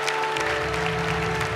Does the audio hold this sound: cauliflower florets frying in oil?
no